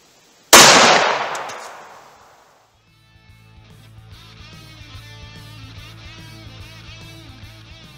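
A single .45 ACP pistol shot fired into wooden boards cracks out loud and close, its blast ringing and decaying over about two seconds before a steady electronic hum takes over.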